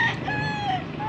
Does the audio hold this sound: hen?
yes